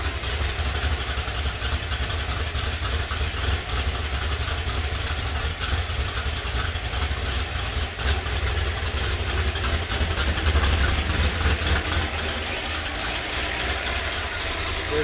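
A 1969 Ford Boss 302 V8 idles steadily and loudly up close, a lumpy low rumble with a rapid popping, uneven beat that continues unbroken throughout.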